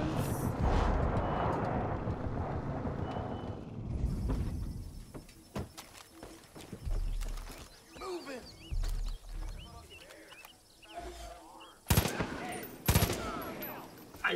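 Gunfire in the video game Far Cry 5, with a dense burst of rapid shots at first and then scattered sharp cracks and pops amid game ambience, while someone talks between and over them.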